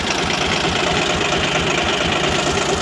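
A tractor engine runs at night with a steady, loud, close idling rumble and a regular low knocking pulse, continuous throughout and without talk.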